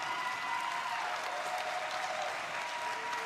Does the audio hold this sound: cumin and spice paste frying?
no